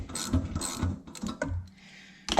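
A ratchet fitted with a 13 mm socket tightens the downpipe nuts on a Mini Cooper R56, giving close, quick bursts of metallic clicking in short uneven strokes separated by brief pauses.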